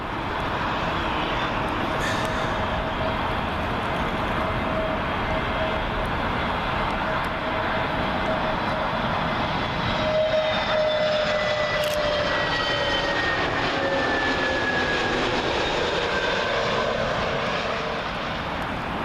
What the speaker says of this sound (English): Next up over the house is British Airways A320neo. This one coming in from Dusseldorf.